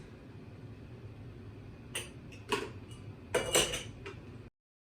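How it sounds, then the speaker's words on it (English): Minced garlic dropped into glass canning jars in a kitchen, a few light clinks and taps of a utensil against glass over a quiet background, then silence. "I'm just gonna go and toss some of my minced garlic into some of the jars"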